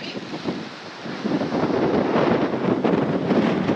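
Strong wind buffets the microphone in steady gusts, a loud broadband rush with no voices.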